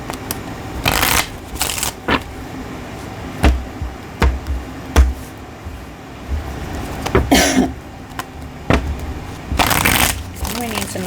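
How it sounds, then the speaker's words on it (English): Tarot cards being shuffled up close in several bursts of riffling and flicking, with scattered soft handling noises and brief vocal sounds between. "so I'll shuffle them both."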